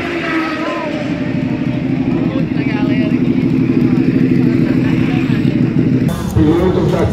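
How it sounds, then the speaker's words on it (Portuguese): Motorcycles at a track day at the Velo Città circuit rumble and idle at mid pitch with some mechanical clatter. The engine noise is steady and fairly loud, with a sharper burst near the end and people talking over it. "Essas aqui são as motos"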